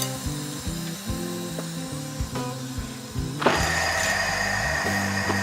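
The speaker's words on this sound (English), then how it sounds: "going to begin descending the ram into the drum" A 55-gallon drum adhesive ram unit descends into its drum with repeated mechanical clunks and ratcheting knocks, then a steady air hiss takes over partway through, near and fairly loud.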